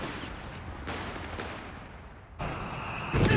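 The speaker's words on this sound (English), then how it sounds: "Artillery strike on the way." Artillery and gunfire in Company of Heroes 3, a steady rumble of distant shelling and crackling small-arms fire, with a louder blast near the end.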